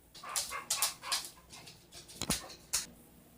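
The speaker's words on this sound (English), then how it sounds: "The dogs were tapping, wanting to go outside." Several dogs in a house yip, whimper and give short barks while eager to be let outside, with bursts of tapping scattered through the stretch.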